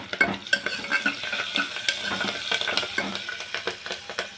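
Curry leaves crackling and spluttering in hot oil while tempering for Telangana tamarind pulusu: a busy stream of close, sharp pops over a sizzling hiss, with no speech.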